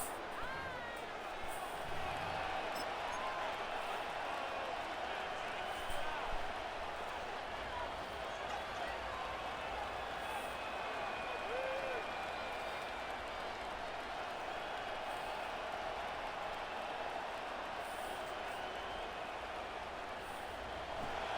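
Stadium crowd noise from an EA Sports Madden football game, a steady loud roar of cheering fans that holds evenly throughout without breaks.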